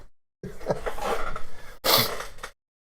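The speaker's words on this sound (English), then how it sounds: "I had to sneeze" A close sneeze with a drawn-in gasp beforehand, followed by a sharp, breathy burst, then silence.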